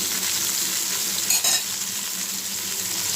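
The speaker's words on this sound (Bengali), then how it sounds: "বেলে মাছগুলো আমি প্রথমে লাল করে ভেজে নেব" Bele (baila) fish sizzle in hot oil in a pan, a continuous close crackle with a brief clatter of a utensil in the middle.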